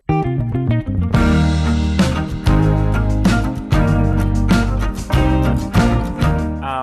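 Cello plays a rhythmic chopping pattern within a full, sustained arrangement, with strong bass and accented strokes marking a steady pulse throughout.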